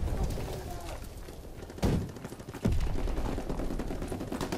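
Video game gunfire from Call of Duty WW2, bursts of rapid shots and thuds over a busy background mix, with two sharper loud impacts in the middle.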